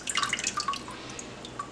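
Light water drips and splashes in a kitchen sink while collard greens are washed. They come as a quick cluster of soft, close drops that taper off into quiet.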